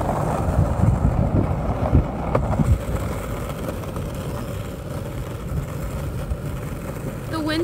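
Steady wind rushes across the microphone while someone rides a penny board outdoors at dusk, a constant low roar with a few scraping thumps early on.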